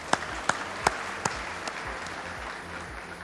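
An audience at an international exhibition claps briefly for a speaker. A few distinct nearby claps rise over a soft wash of applause, and the clapping fades away within a few seconds.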